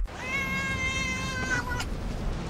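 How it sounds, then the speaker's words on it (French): A cat's meow dubbed onto a great white shark in a French film: a single long, drawn-out, close and clear meow lasting over a second, trailing off into quiet background hiss. "Vous avez déjà vu un requin faire miaou?"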